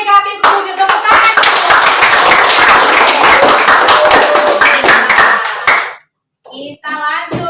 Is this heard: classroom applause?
yes